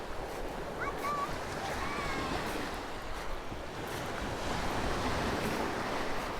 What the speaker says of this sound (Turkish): Deniz okyanusa benzediği için her gün dalgalı oluyor.